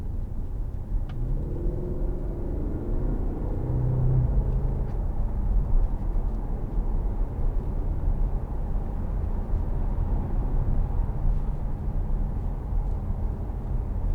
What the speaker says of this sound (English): all you can hear is just a gentle purr of the engine